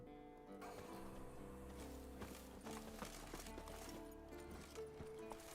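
A horse's hooves clip-clopping in The Witcher 3: Wild Hunt, a steady run of soft hoof taps over a layer of background game music, with no talk.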